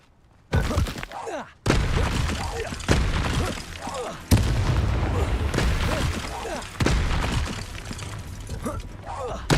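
Confringo fire spells blasting in the Hogwarts Legacy video game, a run of loud booming explosions and crackling impacts in quick succession, layered over busy game effects with a voice calling out.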